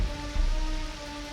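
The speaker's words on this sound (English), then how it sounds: "You have no idea how hard it is to get any work done when it won't stop raining." Rain falling steadily, a soft continuous patter with low rumbling undertones and a faint steady hum, fairly quiet and without voices.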